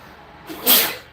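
A single person sneezes once in a short, sharp burst of breathy hiss, preceded by a brief inhale, heard fairly close during a casual live stream chat.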